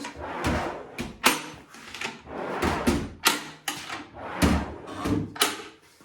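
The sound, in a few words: drawers being pulled out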